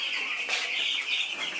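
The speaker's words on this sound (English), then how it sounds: "turn the garage into a small poultry space. And so, right here, we have our birds." Chickens in a garage turned into a small poultry space holding around 200 birds give close, overlapping clucks and calls with no talk.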